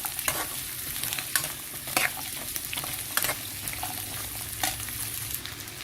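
Garlic fries in hot oil for a garlic pickle, sizzling steadily while a spoon stirs and scrapes through it in the pan with irregular clinks and scrapes.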